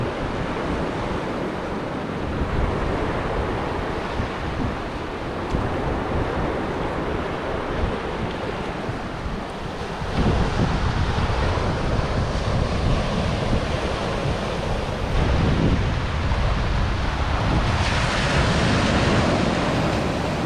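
Waves and wind on Pala Beach in Thailand at sunrise, a loud steady roar of surf with heavy wind buffeting the microphone, swelling louder in the second half.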